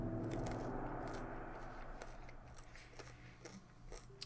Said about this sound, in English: I'm eating a carrot right now, so